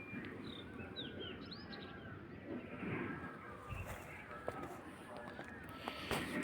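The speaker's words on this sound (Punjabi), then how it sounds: "ਪੰਛੀਆਂ ਦੀਆਂ ਜਿਹੜੀਆਂ ਆਵਾਜ਼ਾਂ ਉਹ ਸੁਣ ਰਹੀਆਂ ਹੋਣਗੀਆਂ" Faint bird chirps and tweets scattered over a low, rumbling outdoor background, with a few brief calls standing out here and there.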